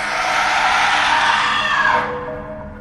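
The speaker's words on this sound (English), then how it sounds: "The woman's wails turned into a blood-curdling scream as I watched in horror." A woman's long, blood-curdling scream in a scary story animation, loud and sustained at a shrill pitch before cutting off abruptly near the end, with no talk.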